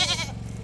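A small pack of homestead goats gives a brief, close bleat that fades over a low steady hum.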